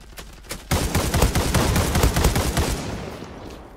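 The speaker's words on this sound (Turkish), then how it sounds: "M1 Garand vuruyor" Rapid M1 Garand rifle fire in a video game, a loud burst of several close shots rolling into a dense volley with some reverb, preceded by a couple of softer pops.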